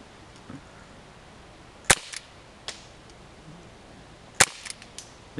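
Two crisp pellet gun shots, spaced about two and a half seconds apart, fired outdoors at an LG Chocolate Touch phone, each followed by small ticking impacts in an otherwise quiet setting.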